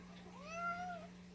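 A domestic cat gives a single drawn-out meow, close but fairly soft, over a steady low electrical hum in a bakery kitchen.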